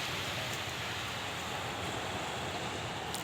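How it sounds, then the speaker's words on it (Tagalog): Waves wash along the shore of the West Philippine Sea on a quiet morning, a soft, steady, far-off hiss of surf with no voices. "Maririnig mo lang yung tunog ng alon."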